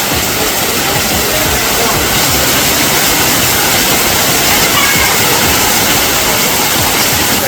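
Rushing roar of Gotto Falls pouring over rock on a cold mountain stream, loud and steady throughout with no pause, a dense broadband wash filling the whole stretch.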